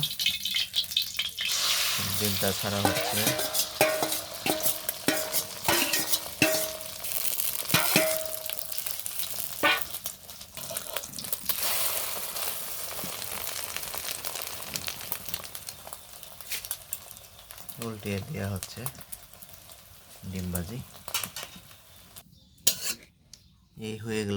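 Oil sizzling in a pan for frying, a steady close hiss with clinks of a spoon against the pan and occasional rattles, and a brief quiet gap near the end.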